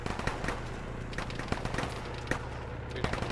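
Scattered gunfire from a firefight in the video game Arma, sharp cracks and short bursts popping at irregular intervals over a low rumbling background, some near and some distant.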